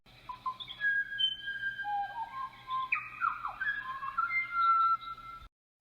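Shrikes (butcher birds) sing a varied run of clear whistled phrases with rising and falling notes, close and alone, steady for about five seconds before cutting off.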